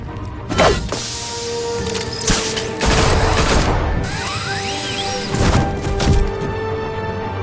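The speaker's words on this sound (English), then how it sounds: "It's Batman! Shoot him" Gunfire in the Batman Telltale video game: loud, dense bursts of shots and heavy thuds and crashes, with an ongoing rumbling action scene throughout.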